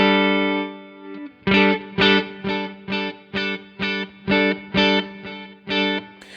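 Distorted electric guitar chord through a Fractal FP4 virtual pedalboard, its volume swelled by an expression pedal: a sustained chord followed by about nine rhythmic, evenly spaced pulsing stabs, loud and close with no talking.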